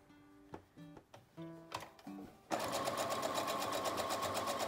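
A sewing machine runs over pins as it stitches a cloth face mask. Some brief knocks and taps come first, then the motor breaks into a loud, steady, even hum that lasts to the end.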